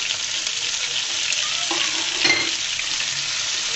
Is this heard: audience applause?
no